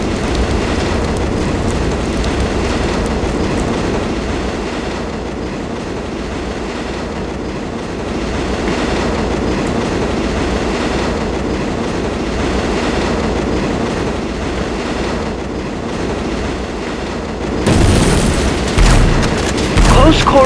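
A subway car rumbles steadily through tunnels in the video game SiN, a loud continuous rolling roar with rail clatter that surges louder near the end.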